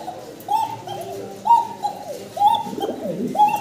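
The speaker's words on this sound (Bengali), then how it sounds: "হ্যাঁ, খুব সুন্দর ডাকাডাকি করতেছে। রানিং জোড়া তো ভাই না?" Bashiraj pigeons coo nearby in a repeated series of soft, throaty rolling calls, about six phrases in under four seconds, over quiet background hiss.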